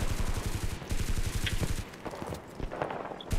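Rapid bursts of automatic gunfire in the WWII shooter Enlisted, Pacific battle setting: a dense, rhythmic rattle of shots dominating the first half, then thinner scattered firing with a couple of sharper distant pops.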